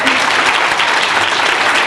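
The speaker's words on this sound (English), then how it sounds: "I think we should give them a big round of applause for organizing it." Audience at a high school theatre dinner applauds steadily, a dense, loud clapping that fills the short stretch without a break.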